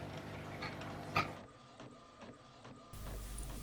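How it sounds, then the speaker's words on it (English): An inkjet-style printer feeds heavy matte photo paper while printing artwork, giving a steady mechanical whir with rhythmic head passes and clicks, a brief louder clack, then a shift in motor tone near the end. "Coming out of the printer now, you'll see the artwork for the top layer."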